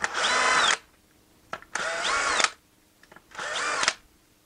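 A power drill removes screws from a Traxxas T-Maxx 2.5 RC truck, whirring in three loud bursts close by, each lasting under a second, with brief clicks and pauses between them.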